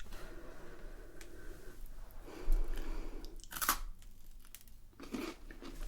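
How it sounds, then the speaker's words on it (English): Close, crisp crunching and chewing of a biscuit, with a few sharp bites and crinkly crumbling bursts between quieter mouth sounds, heard alone without talk. "the biscuits offers a really nice crunch"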